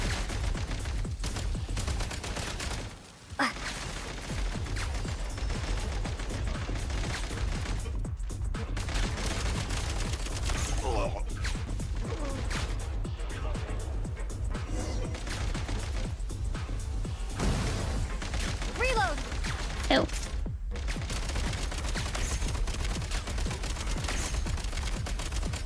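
Grenade launcher fire from the Genshin Impact open world, heard as a long, dense run of loud explosive blasts and crashes with constant game noise beneath and only a brief dip near the start.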